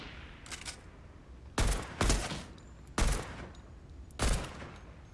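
Video game gunfire from sniper and assault rifles: four sharp, loud shots spaced over a few seconds, two of them close together, over a low background hum.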